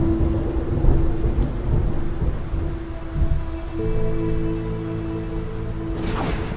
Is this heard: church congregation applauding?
no